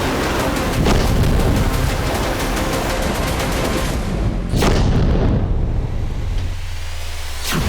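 Heavy explosions from Russian strikes in western Ukraine roar in a loud, dense, continuous rumble, with a couple of sharper blasts standing out before the din drops to a low distant rumble, no talking.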